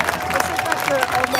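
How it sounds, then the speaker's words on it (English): Applause and crowd noise from a street protest crowd in Sydney, a dense burst of clapping and murmuring voices mixed with speech close by, continuous through the short moment. "Give yourself a round of applause."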